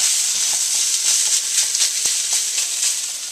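Leftover fried rice ingredients sizzle and hiss steadily in a hot pan, a continuous close frying crackle with small pops and no talking.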